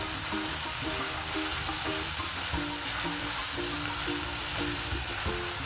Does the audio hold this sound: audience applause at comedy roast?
no